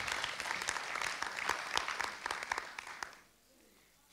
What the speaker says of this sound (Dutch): Groot applaus voor Mila!